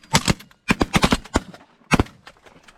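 Shotgun fire during a pigeon hunt comes as sharp, close cracks: a quick pair, then a rapid cluster of several shots, then one more after a short pause.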